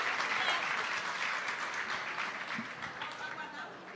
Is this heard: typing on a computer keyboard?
no